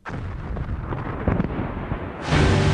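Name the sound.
quarry rock blasting explosion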